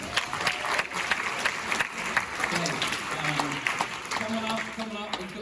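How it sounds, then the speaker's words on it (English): Theatre audience applauding at a fringe comedy show, a continuous dense clatter of many hands throughout, with a voice speaking over it near the end. "Welcome to the stage, round of applause."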